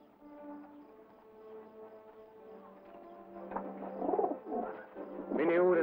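A carrier pigeon coos in soft, low, repeated calls. Near the end a voice speaks over them and the sound grows louder, with faint clopping in the background.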